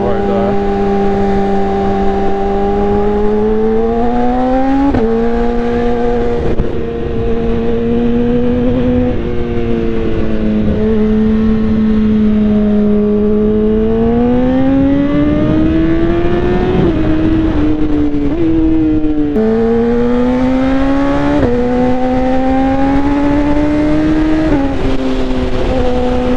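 A BMW S1000RR 1000cc sport motorcycle rides along a road, its engine droning loud and close with repeated rises and drops in pitch through gear changes, while wind rushes steadily and a rider talks at times.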